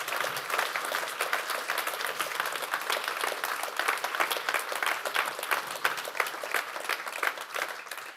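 Sustained applause from a large audience, dense and steady clapping filling the space for several seconds.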